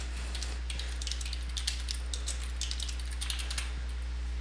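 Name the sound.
computer keyboard typing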